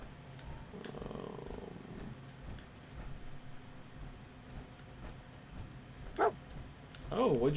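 Dogmeat, the dog in Fallout 4: a couple of short barks and whines near the end, after a stretch of quiet game ambience with a voice speaking earlier.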